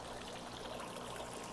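Water trickles in a garden water fountain fed by small irrigation tubing, a soft continuous burbling stream heard faintly and alone.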